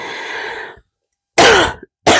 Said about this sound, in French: je vais vous embêter avec mes toux